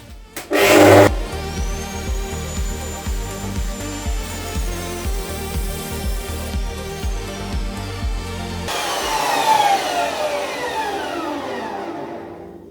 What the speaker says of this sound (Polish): Jak możecie zauważyć, bez problemu przecinarka sobie poradziła e, z ucięciem tego profila.